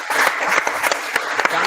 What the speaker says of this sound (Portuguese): Essa merece uma salva de palmas.